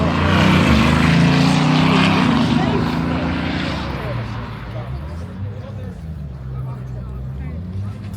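Rimac Nevera Time Attack and Bugatti Veyron hypercars launching at a supercar festival, a loud surging engine and drivetrain roar close by that rises, then fades into the distance over about eight seconds, with crowd noise and talk underneath.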